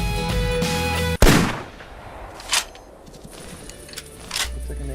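A single sharp, loud hunting rifle shot in theHunter Classic hunting game cuts off a steady background hum, followed by a fading echo and a few faint clicks.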